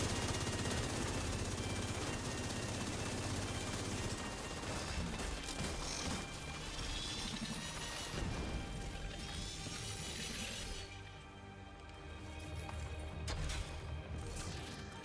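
Explosions and heavy crashing in The Division 2 shooter game, with repeated loud blasts, rattling gunfire and debris filling a dense, continuous battle din.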